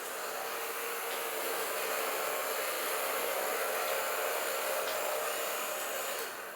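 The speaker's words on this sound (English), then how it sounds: "My own vacuum cleaner, and it will suck in all these germs." A homemade vacuum cleaner runs steadily throughout, a constant broadband airy whoosh like a hair dryer, fairly close and alone with no talk.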